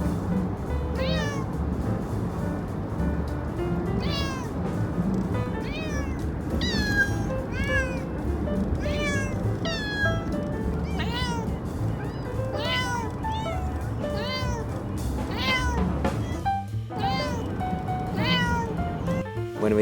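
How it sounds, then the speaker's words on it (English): Pet cats riding in a car meow over and over in a restless, uneven chorus of plaintive cries, close and clear above the low rumble of the moving vehicle. "I bring my pet cats for a getaway, and they're not happy about being in the car."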